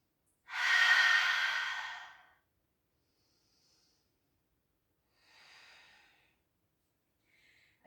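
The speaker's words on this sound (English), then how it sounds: "Nice deep breaths." During a yoga stretch, one long deep breath sounds up close as a strong airy exhale, then a softer second breath follows after a pause, with quiet gaps between and no talking.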